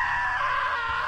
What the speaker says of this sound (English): Was a great scream